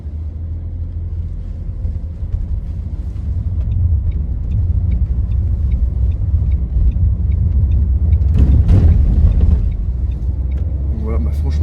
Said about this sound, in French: On va passer sur les pavés avec un petit peu de vitesse.